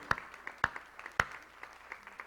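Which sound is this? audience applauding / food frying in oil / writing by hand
audience applauding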